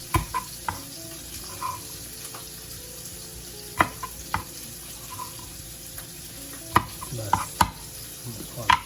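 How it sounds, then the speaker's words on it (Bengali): Fish frying in a pan for an onion fish fry: a constant soft sizzle and hiss, broken by occasional sharp clinks and scrapes of a utensil. "এই মাছ ভাজাটা কি অবস্থা, ঠিক হয়ে গেল। কড়া কড়া ভাজা হবে।"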